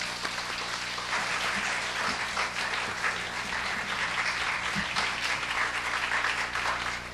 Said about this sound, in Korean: 우리 박성민 목사님 나오실 때 뜨거운 박수로 환영하도록 하겠습니다.